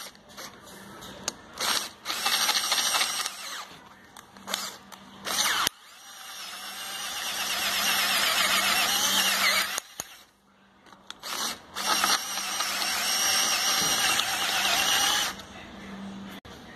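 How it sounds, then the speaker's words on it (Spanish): A power drill bores into a steering wheel hub in repeated loud, close bursts of whirring and ratcheting, with brief pauses and clanks between runs. "el taladro entra de lado"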